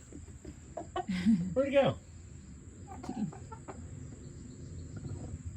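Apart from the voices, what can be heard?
rooster clucking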